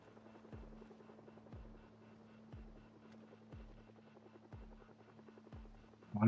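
A helicopter in the video game Project Zomboid drones as a low, steady hum with rhythmic rotor thumps about once a second, fairly faint and alone, ending in a sudden loud burst.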